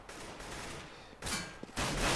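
Rapid gunfire bursts from a Counter-Strike match on the de_nuke map, with a steady mid-level crackle of shots followed by two louder, denser volleys near the end, no voices in between.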